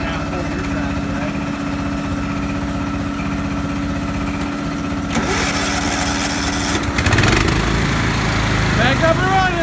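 Tractor engines run steadily outdoors in the cold during a tractor tug of war, a continuous low idling drone that rises in effort and roughness toward the end, with a voice talking over it.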